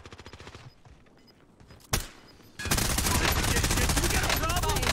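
Gunfire in Call of Duty Warzone, shooting through a wall: sparse ticking and a single sharp shot, then a sustained loud burst of rapid automatic fire that continues to the end.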